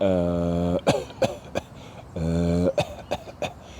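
Two rounds of a held voiced tone, each followed by a few sharp, forceful coughs pushed from the diaphragm, close to the listener.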